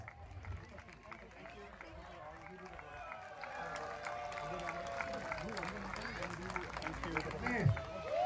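Audience applause at a community Independence Day celebration in Jeddah: a dense, steady wash of many hands clapping for the full stretch, mixed with crowd murmur and voices.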